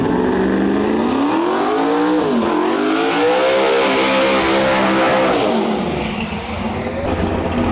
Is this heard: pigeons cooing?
no